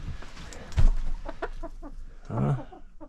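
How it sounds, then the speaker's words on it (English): Chickens in a coop cluck close by in short, repeated bursts, with a louder squawk near the end. "let's see how the chickens are doing"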